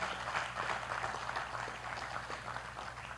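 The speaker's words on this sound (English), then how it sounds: "Please give a round of applause from Manila to our other campus" An audience at a faculty orientation in Manila applauds, a steady wash of clapping heard faintly and at a distance, continuing evenly throughout with no talk over it.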